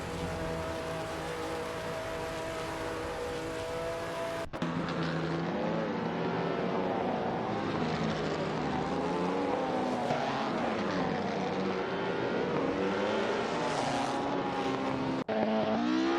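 Vintage 1950s Formula 1 cars race around the Bahrain circuit in a racing game, their engines whining and droning loudly and continuously, with shifting pitch as cars pass and a brief drop at one point.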